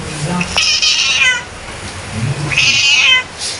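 Pet cats sheltered indoors upstairs during an evacuation give two drawn-out meows, one early and one near the end, close and clear over a low background murmur.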